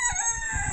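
A red porcelain d'Uccle bantam rooster gives a short, close crow with bright harmonic tones, lasting under a second.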